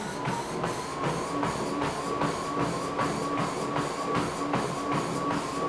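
A Peloton Tread treadmill belt thumps rhythmically against the deck under a runner at about 7 miles an hour, producing steady evenly spaced footfalls over a constant motor whine.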